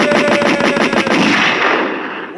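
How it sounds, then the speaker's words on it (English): Rapid machine-gun fire rattles in a dense, loud burst, heavy and close, before trailing off into a fading echo, with no talking. "What's the gunshots for?"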